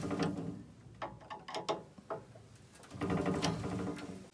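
A fitting being tightened on a gas water heater during a repair, heard as faint, close ratcheting and metallic clicks in short irregular bursts with quiet pauses.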